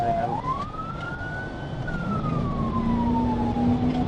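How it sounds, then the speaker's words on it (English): A police car's emergency siren wails during a motorcycle chase, one long rising and falling tone over steady road and engine noise, heard from inside the vehicle with no speech. "The motorcycle turned right onto L.E. Gillian Drive and then initiated my emergency siren."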